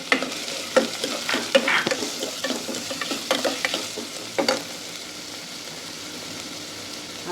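Chopped garlic and onion frying in a hot pan for potato vadas, with close stirring scrapes and bursts of sizzle over the first five seconds, then easing into a quieter, steady fry.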